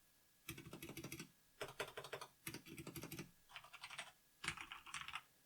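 Typing on a Corsair K70 RGB LUX keyboard with brown switches, close and crisp, in five quick bursts of rapid key clicks separated by short pauses, with no talking.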